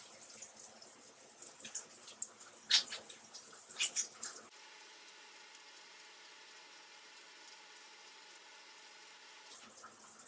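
Conditioner being squished into wet, low-porosity curly 2b/2c hair while water is added, giving soft, wet squelching and crackling bursts close up, followed by a steady faint hiss of running water.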